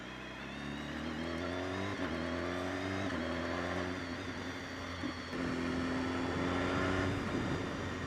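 A 2016 BMW S 1000 RR superbike accelerating hard in race mode, its engine note climbing through several quick gear changes with loud, continuous revving from start to finish.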